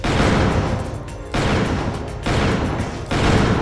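Gunfire in the video game Killer 7, three loud bursts of shots in quick succession, each a dense broadband blast that carries without a break into the next.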